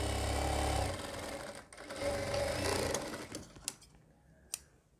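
A sewing machine runs steadily along a churidar pajama seam, loud and close, then slows and stops with a few sharp clicks near the end.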